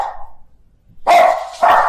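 Dogs at home bark in two loud, close bursts after a doorbell ring, sharp and emphatic with a brief faint yelp before them.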